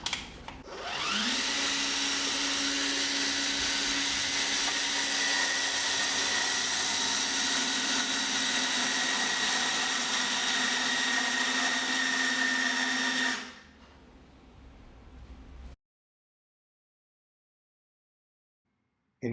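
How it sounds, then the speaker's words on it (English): A power tool tightens a monitored bolt, whining at a steady high pitch for about twelve seconds before winding down and stopping, close and loud. "Now I'm going to just tighten bolt number 7"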